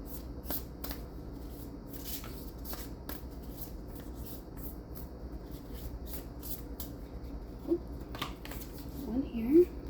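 A crystal oracle card deck is shuffled by hand nearby, giving repeated crisp riffles and soft card slaps in uneven bursts, with a quiet voice at times underneath.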